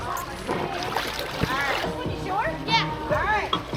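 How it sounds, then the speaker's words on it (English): People and children splashing and playing in water outdoors, with irregular splashes under excited talking and shouting close by. "There's a lot of splashing going on."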